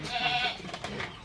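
A goat bleats once in a brief, wavering cry close by, with faint background noise behind it.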